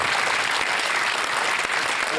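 A studio audience at a televised Q&A panel claps, a loud, dense burst of applause that stays steady and fills the whole moment without a break.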